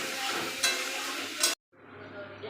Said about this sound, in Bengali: এবার কথা হচ্ছে চাউমিনটাকে আমাকে ভাজতে হবে